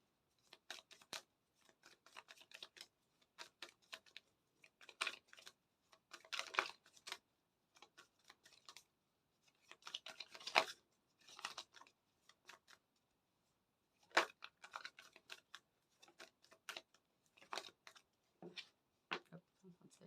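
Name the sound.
tarot cards being shuffled and drawn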